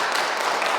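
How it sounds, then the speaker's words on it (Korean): Applause from an audience at the close of a parents' education lecture given by a priest: dense, steady clapping throughout, fairly loud and without pause. "수고했다고 박수 한번"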